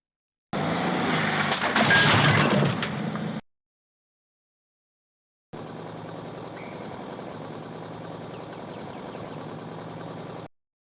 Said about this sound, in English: Turn the car on, Shelly.